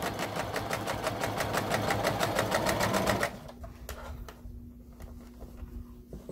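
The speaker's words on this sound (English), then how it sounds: "And I am sewing" Sewing machine stitching a fabric arched face mask, a fast close mechanical rattle for about three seconds before stopping, leaving a faint hum and quiet handling.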